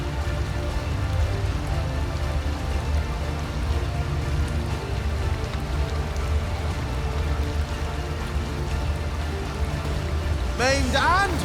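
Rain in the video game Divinity: Original Sin, a steady dense patter of falling water throughout, fairly loud and even, with a brief swirling magical effect near the end.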